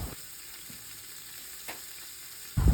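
Sliced onions for mutton biryani frying and being stirred in a pan, giving a steady close sizzle with a single sharp scrape partway through and a louder burst of sizzling at the end.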